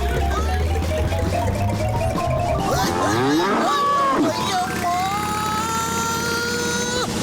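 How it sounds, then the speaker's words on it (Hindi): A cartoon buffalo lets out a loud, drawn-out moo with a sliding, wavering pitch, set against a busy comedy soundtrack of music and effects in a Motu Patlu episode. "यमराज का भैंसा है, रुकना मुश्किल है।"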